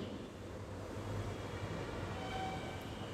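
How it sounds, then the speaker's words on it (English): A train rumbles in a faint, steady low drone with a constant wash of noise, and a brief high tone briefly surfaces partway through. "T is for train."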